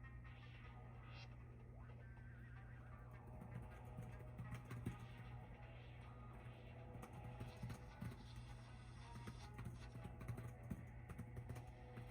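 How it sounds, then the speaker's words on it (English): Computer keyboard typing runs steadily at close range through a card-break stream, with clustered keystroke clicks over a constant low electrical hum and no talk. "typing up a storm over here."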